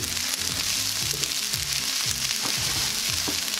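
Chicken and shrimp fried rice stirred in a hot pan, a steady loud sizzle and hiss broken by repeated scraping strokes of the utensil, close and continuous with no voices.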